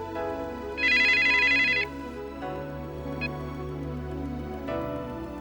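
A telephone rings in a radio mystery drama, its electronic ringtone trilling in one loud, steady burst over a tonal music bed, with no talk over it.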